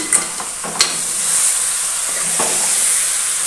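Chicken curry is stirred in a sizzling pan, a steady frying hiss with a few soft scrapes of the spoon near the start, close and alone without any talk.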